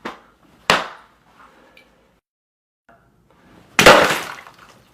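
Sharp cracks as a coin is dropped into a glass of water, followed by a loud burst of shattering glass, close and sudden, with quiet gaps between the impacts.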